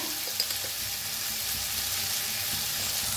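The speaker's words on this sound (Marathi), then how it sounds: "मटकी छान अशी भाजून घेतलेली आहे तेलात।" Moth beans tossed with turmeric in hot oil fry with a soft, steady sizzle, close and continuous, with faint scraping and stirring ticks scattered through it.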